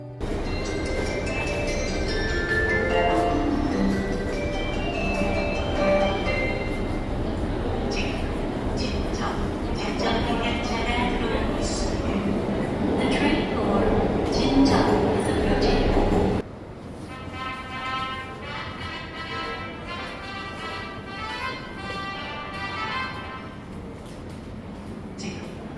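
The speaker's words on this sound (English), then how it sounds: "a special sound that you can only hear on subway platforms in Seoul" A Seoul subway platform with the rumble and clatter of a train, then a quieter stretch of platform ambience with a chiming melody in the background.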